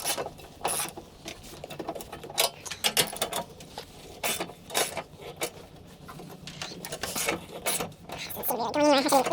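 Ratchet with a deep socket tightening a truck battery hold-down, giving repeated close clicking bursts in an uneven rhythm with small metallic clatter throughout.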